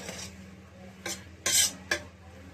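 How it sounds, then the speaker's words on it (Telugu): Plain cooked rice for bagara rice is mixed in a few short, scraping strokes, four separate bursts of stirring against a faint steady background hum. "ఇట్లా కలుపుకోవాలి."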